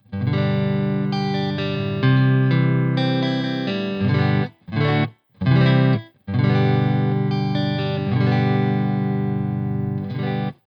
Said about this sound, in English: So let's hear the spring reverb on this clean setting.